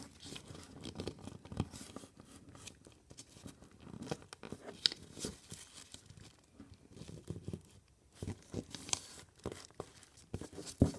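Paper creased and folded by hand while making an origami swan: soft, close crinkles and sharp crunchy presses come in irregular bursts, quiet overall, with no voices.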